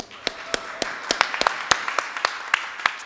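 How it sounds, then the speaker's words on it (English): Audience at a Nordic game developer discovery contest applauding their assistant Agne, with sparse, distinct claps in a loose irregular rhythm from a small crowd, fairly close. "So let's give her a round of applause."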